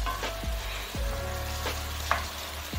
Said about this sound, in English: Just give this a nice stir.